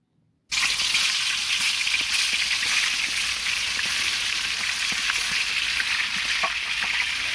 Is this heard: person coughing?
no